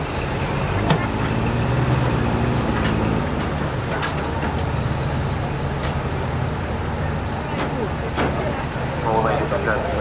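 Second World War US Army military vehicles running at a steam rally, with steady engine rumble and passing traffic noise throughout, occasional clunks and a brief air-brake-like hiss, while people talk in the background.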